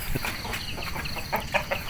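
Chickens kept in a Thai garden cluck and chatter in short repeated bursts, close and fairly loud, against a busy outdoor background.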